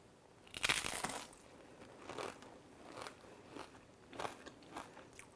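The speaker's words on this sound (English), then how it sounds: "Everything is nice and crunchy." Crisp crunching bites into a tortilla chip with guacamole, one loud crunch followed by several softer chewing crunches, close up and quiet overall.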